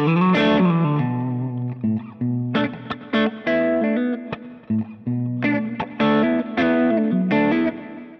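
An electric guitar plays through a Kemper DMBL profile on the overdrive channel, giving loud, distorted chords and short phrases with sharp stops between them, close and alone.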